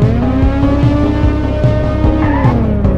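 A motorbike in the racing video game Runner revs steadily and accelerates, engine tones climbing with brief tire-squeal-like chirps, loud and continuous throughout.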